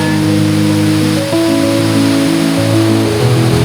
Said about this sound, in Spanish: deleitarnos mejor con el brincal del río y su sonido envolvente